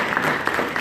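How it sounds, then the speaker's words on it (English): Students at Odyssey High School applaud during a speech, a dense, steady patter of clapping filling the moment with no one talking over it. "Are you guys gonna clap for me or what?"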